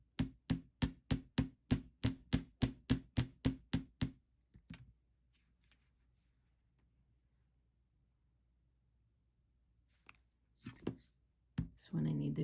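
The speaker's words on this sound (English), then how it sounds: "I'm hammering it and I don't see any copper showing through," A run of about a dozen quick, evenly spaced light hammer taps on copper wire for pearl bead earrings, close and crisp, then a couple of stray knocks, near-silence and some handling noise.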